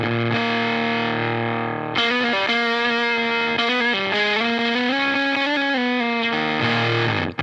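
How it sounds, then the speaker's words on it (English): Electric guitar through a fuzz pedal with its bias being adjusted, loud sustained distorted chords and notes that thicken and shift in tone, played alone without talk. "So messing with the bias is one of the most fun things about this fuzz, right?"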